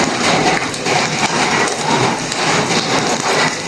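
Heavy rain pours down during a storm while fish is cooked outdoors, a dense, continuous hiss of drops beating on surfaces, loud and steady with no talking.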